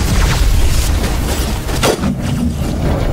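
A sniper rifle shot in the sci-fi shooter Mass Effect Legendary Edition: a loud booming report with a sharp crack and short mechanical rattle amid dense game noise, no voices.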